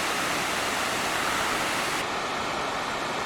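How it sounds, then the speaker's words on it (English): Hurricane Falls at Tallulah Gorge roars as a dense, steady wash of falling water, loud and close with no breaks or voices. "So that is a little bit better view of Hurricane Falls."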